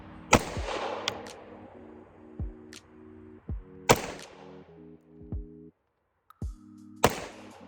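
Smith and Wesson M&P 2.0 10mm pistol fired at an outdoor range with suppressor-height sights: four loud, sharp gunshots spaced about a second or more apart, each with a decaying echo, over a steady low background hum.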